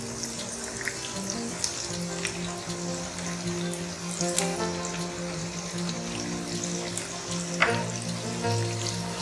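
Chopped onions frying in hot oil for palak paneer, a continuous crackling sizzle with occasional stirring clinks and a faint low hum underneath, no speech.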